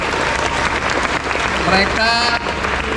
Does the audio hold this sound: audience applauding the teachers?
yes